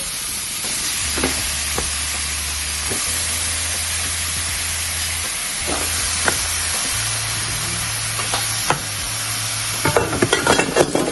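Chicken pieces stirred into a butter chicken sauce in a hot pan, a steady loud sizzle and hiss with repeated scraping stir strokes, the clatter growing busier near the end; no talking.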